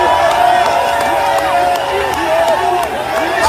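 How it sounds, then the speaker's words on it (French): Crowd at a Cameroonian opposition political rally claps and cheers in a steady, loud roar of applause with babbling voices and whistles mixed in throughout. "Applaudissez encore plus fort pour lui."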